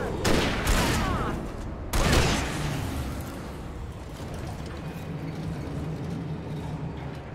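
Bursts of rapid gunfire in the Alan Wake video game, two sharp loud volleys near the start followed by a lingering rumble and softer distant noise.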